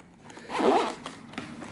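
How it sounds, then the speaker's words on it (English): Zipper pulled shut around the carrying case of a TACKLife lithium micro car jump starter, one short close rasp that swells and fades, followed by faint small handling clicks. "And then the zipper will close it in."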